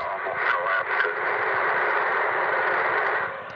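A ham radio receiver listening for meteor scatter contacts during the Perseid meteor shower gives a band-limited hiss of static, with a few short bursts near the start before it settles into a steady wash of noise.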